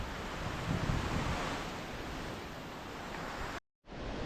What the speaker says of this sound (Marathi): वॉटरफॉल आहे तो नजरेच्या टप्प्यात आले नजरेच्या टप्प्यात आलेला आहे